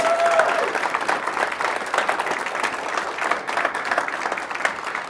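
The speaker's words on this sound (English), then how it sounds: "Let's give them a big round of applause." Audience applause at a startup accelerator demo day, a dense, steady wash of many hands clapping that holds evenly, moderately loud and close.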